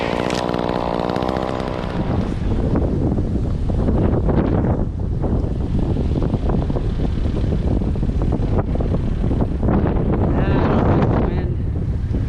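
Strong wind roars and buffets the microphone throughout during tree work near wires, with a chainsaw whining briefly at the start and gusts rising and falling.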